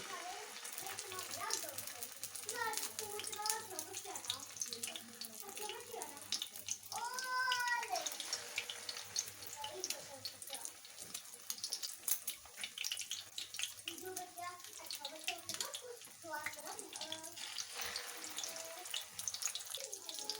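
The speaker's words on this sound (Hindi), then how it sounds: "ऑयल हमारा गर्म हो गया और अब इसमें मैं ये कबाब डाल देती हूँ।" Egg-coated black chickpea kebabs fry in hot oil with a constant crackling sizzle, while someone talks over it for most of the time.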